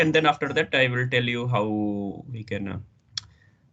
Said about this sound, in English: I will tell you by clicking here